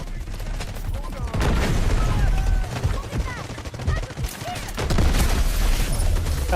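Loud single-fire gunshots in the mobile shooter Delta Force, a string of sharp cracks at an irregular pace amid game noise, with someone talking over the shots.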